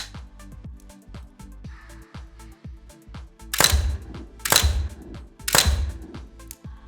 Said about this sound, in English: Nick, come on up and shoot a 3-round group.